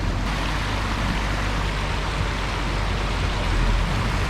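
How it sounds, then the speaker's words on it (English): Water rushes steadily out through a broken beaver dam smashed open by a machine, a dense, continuous, close roar with a low rumble underneath and no clear pauses. "Now we got some water coming out of there."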